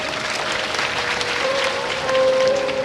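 An audience at a Hindi spiritual discourse breaks into steady applause, a dense, continuous patter of many hands that swells slightly toward the end, with a faint sustained tone underneath.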